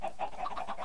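Chickens in the Minecraft video game, a rapid string of short clucks repeating about five times in under a second, moderately loud with no talking.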